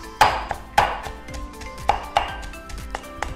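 Shallots and aromatics pounded with a pestle in a mortar for a Thai chili-ginger stir-fry paste, a few close, irregular thuds spaced across the moment, with no talking.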